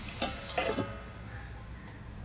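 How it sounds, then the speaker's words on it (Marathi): Green pea bhaji with coriander, spring onion greens and turmeric cooking on a low gas flame, with a short burst of spoon stirring and scraping in the pan, then a quiet, gentle simmer. "मंद गॅसवर भाजी 10 मिनिटं शिजवून घेऊया."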